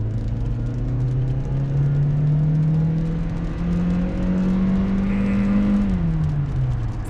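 A heavy 1,800 kg car accelerates hard in a performance run, its engine note climbing in a long, loud rising drone, then dipping as the revs fall near the end.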